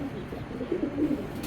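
Racing pigeons kept as a breeding pair give low, soft coos in a short run of repeated notes, close by over a steady background hum.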